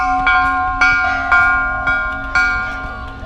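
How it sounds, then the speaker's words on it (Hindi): A temple bell at a Meenakshi temple replica in a Delhi park is struck about five times at a steady pace, each loud metallic clang ringing out and overlapping the next. "ये मिस्टर प्रदीप ने बजा दी एक घंटी मंदिर की,"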